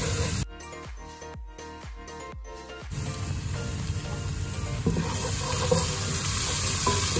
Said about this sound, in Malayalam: ഇഞ്ചിയും വെളുത്തുള്ളിയും പച്ചമുളകും പേസ്റ്റ് നന്നായി മൂത്ത് വരണം